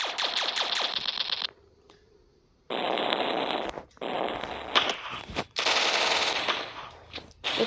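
Rapid automatic gunfire from the video game Strike Fortress Box, loud bursts of rattling shots separated by short gaps, with no talking over it.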